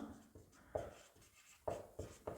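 Pen strokes scratch across paper in short bursts while a math answer is written out, quiet and close with brief pauses between strokes.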